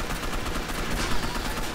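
Dense, continuous video-game gunfire in Gotham City Impostors, with rapid overlapping shots forming a loud, busy wash throughout.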